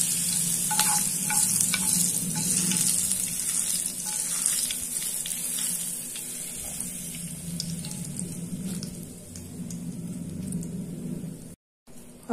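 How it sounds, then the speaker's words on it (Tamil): A hot tempering poured over a small onion chutney sets off a loud, sustained sizzle and crackle with occasional clinks of a utensil, close up, fading out near the end. "இப்போ நம்ம தாளிப்பை இந்த சட்னியில் சேர்த்துடலாம்"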